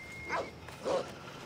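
A dog in a video game gives two short barks about half a second apart, close and moderately loud, with no speech.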